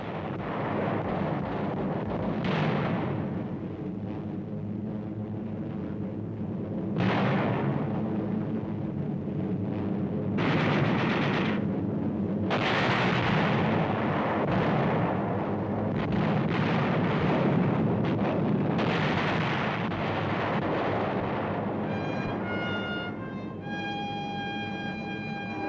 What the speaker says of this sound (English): delayed action bombs.